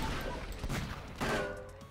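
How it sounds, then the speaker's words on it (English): A couple of gunshots from a potshot weapon in the side-scrolling game Cortex Command, short sharp bursts a fraction of a second apart, fairly quiet in the mix. "Fire off some pot shots."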